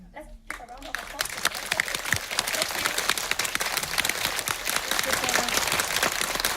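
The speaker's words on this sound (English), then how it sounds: "Let's give a round of applause." Audience at a director's film screening bursts into applause after a brief quiet moment, dense sustained clapping that builds and stays loud throughout, with some voices mixed in.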